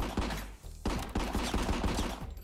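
A pistol fires repeatedly in the first-person shooter RICO, a string of sharp close shots in quick succession broken by a brief pause.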